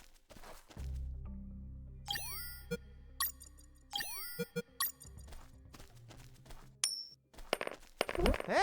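Coins clink and bounce on the ground in the video game UnMetal, several separate metallic drops with ringing, jingling tails, spaced over a quiet background with soft thuds and footsteps between them.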